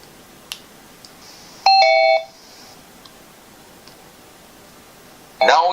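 A bicycle music speaker powers on with a bright electronic chime, a short clear tone lasting about half a second, alone in a quiet room. A second burst of sound follows at the end.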